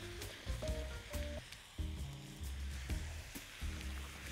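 Onion and meat frying together in a pan for a meat tagine, giving a steady close sizzle with bursts of crackle and some low clattering from stirring.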